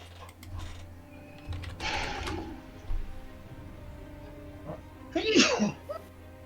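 A person sneezes sharply and close by, a quick, loud burst, during a quiet tabletop game session with soft clicks and shuffling beforehand.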